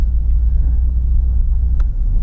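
A custom 1968 Chevrolet Corvette show car engine idles with a steady, deep, low rumble, held evenly throughout with a brief faint click near the end.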